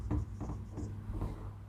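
Handwriting strokes during a Class 12 accountancy lesson: a short series of rhythmic scratching strokes, close and fairly quiet, with no talking.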